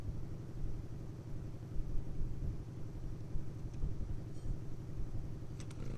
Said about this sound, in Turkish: durun motoru çekeyim çünkü motor bana lazım